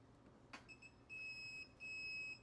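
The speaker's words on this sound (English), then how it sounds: "Doesn't give me a solid beep, but I know that that's the breaker." KAIWEETS KT301P circuit breaker finder emitting a faint, high electronic beep that cuts in and out, with short chirps followed by two longer sustained tones.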